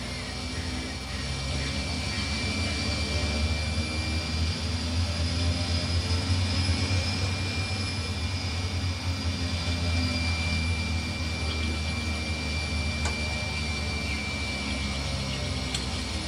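A DHC-3 Turbo Otter turboprop taxiing in a flight simulator game makes a steady, loud engine drone with a constant whine and low rumble, holding even throughout.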